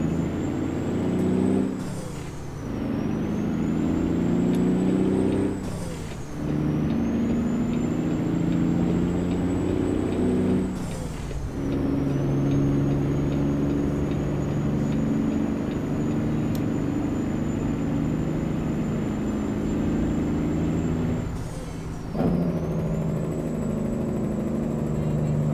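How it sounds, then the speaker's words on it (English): Truck engine with a Cat C15 in American Truck Simulator, a steady loud diesel drone while driving with the windows down, broken every few seconds by brief dips as gears shift. "Listen to how amazing this engine sounds, everybody."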